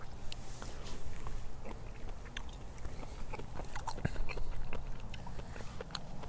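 Someone loudly chews and smacks their lips while eating cooked snails dipped in sauce, wet crunchy mouth noises close to the microphone continuing throughout.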